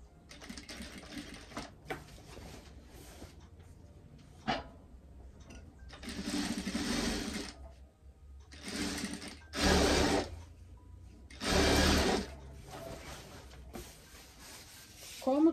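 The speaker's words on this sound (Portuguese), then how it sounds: "Baixa o pé calcador e segue." A sewing machine stitching decorative rickrack trim onto heavy fabric runs in several short bursts of whirring, fairly faint and close, with quiet pauses between runs.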